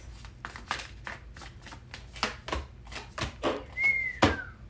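Tarot cards are shuffled close and clearly, in a rhythmic series of riffling bursts, with a brief high squeak near the end and no one talking.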